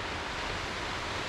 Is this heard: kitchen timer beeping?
no